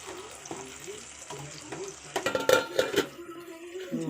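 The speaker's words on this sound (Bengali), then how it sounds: "এটা কিন্তু নাড়তেই থাকতে হবে, না হলে তলায় ধরে যাবে।" Chicken korma being stirred in a pan over a low flame, with a soft sizzle and a run of scraping, clinking strokes that grow busier and louder toward the end before settling, close up and alone.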